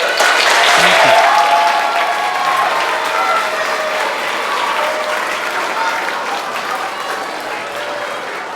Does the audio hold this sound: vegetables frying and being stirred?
no